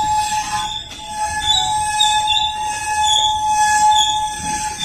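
A Norfolk Southern freight train departing, its wheels squealing on the rails in loud, sustained high-pitched tones that waver and overlap, heard close by over a rumbling rolling background.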